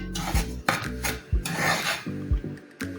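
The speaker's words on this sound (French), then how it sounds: "Dans la vite bien chaude, nous allons faire revenir la farine de maïs." Corn flour toasting in a hot pan gives a rhythmic scraping and rasping as a utensil stirs it against the metal, in short, regular strokes close to the microphone, with no voices.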